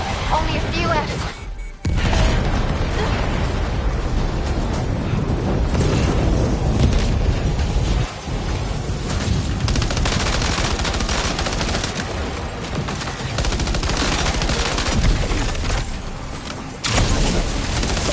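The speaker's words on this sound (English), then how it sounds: "Opening fire. Keep firing." Video game gunfire, dense sustained bursts of automatic shots and booms that fill the whole stretch and stop only briefly, loud and close, with voices speaking over the shooting.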